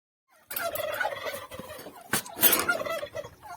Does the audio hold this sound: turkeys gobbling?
yes